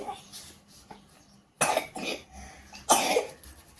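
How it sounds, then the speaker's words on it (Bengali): A child with a lingering cold coughs close to the microphone, two sharp harsh bursts separated by a quiet pause, with faint soft sounds before them. "খুব কাশি হয়েছে ঠান্ডাটা এখনও কমেনি"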